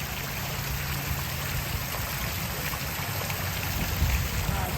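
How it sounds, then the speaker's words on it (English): Steady splashing water from an old three-tiered fountain, a continuous broadband rush spilling over tiers, close by and even in level throughout, with no voices. "I love the old water fountains, especially the tri-levels like that. It makes such a great sound."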